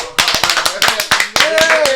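A small group claps in scattered, uneven bursts at an indoor gathering, sharp close hand slaps over roughly two seconds while a voice talks across them.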